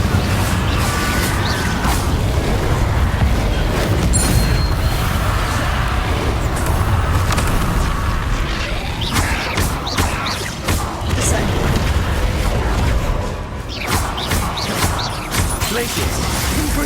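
Confringo spells go off in Hogwarts Legacy as repeated booming blasts and crashes over dense game noise, while a player's voice shouts out over the fight.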